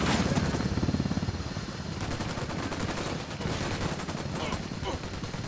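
Heavy automatic gunfire in the video game Ghost Recon Wildlands, loud rapid bursts that overlap into a dense clatter for the whole stretch, with voices mixed in.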